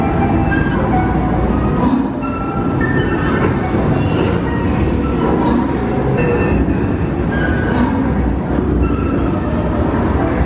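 A theme park ride train rumbles steadily along its track, with a continuous loud roar, rattling wheels and faint squeals, and no voices.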